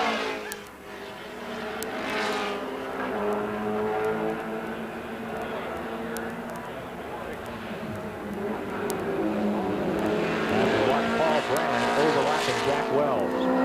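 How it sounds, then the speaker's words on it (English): Porsche 914 race cars at a 1980 E Production national championship road course roar past, engines rising and fading as they pass, with a commentator talking over the track noise. "Another of the 914 Porsche automobiles."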